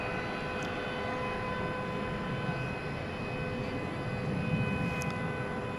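An Eva Air jet arrives at DFW Airport at night, heard as a faint, distant, steady engine roar with a whining tone over a low rumble.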